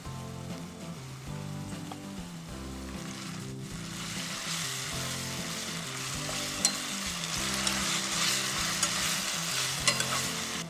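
Ground Kashmiri chili cooks in hot oil for a Schezwan chutney, giving a steady close sizzle, with light stirring scrapes and a few sharp spatters and pops, and no voices.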